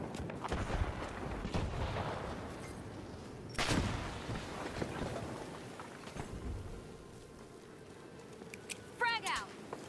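Explosives detonate during a match of the shooter game The Finals, a sharp blast near the four-second mark amid constant gunfire and battle noise, with a chirping burst near the end.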